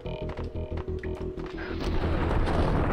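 Gunfire in the Max Payne video game, a burst of booming shots over a pounding low beat of game music that swells louder toward the end.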